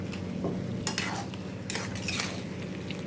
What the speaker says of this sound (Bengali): ভালো করে কিমাটা দিয়ে ভালো করে কষিয়ে নিয়ে আমি মশলাগুলো দিয়ে দেবো।